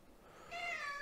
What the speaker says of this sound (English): my cats decide to come down and join me.